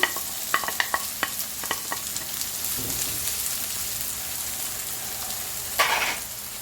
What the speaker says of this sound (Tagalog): Igisa ko lang siya ng bahagya at ilagay ko na ang bawang.